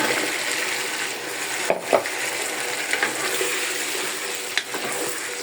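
Whole spices frying in hot oil in a pan for vegetable khichuri, a steady close sizzle with a few soft stirring knocks and scrapes, no voices.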